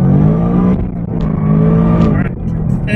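A supercharged 2018 Roush Mustang making about 700 horsepower roars loudly through a burnout on a dry stretch of road, its engine droning and rising close by for three seconds while people talk over it.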